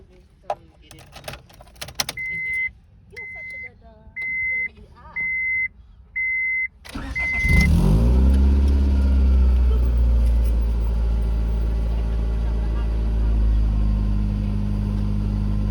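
A series of beeps and key jangling, then a Honda Prelude engine turns over and settles into a low, steady rumbling idle.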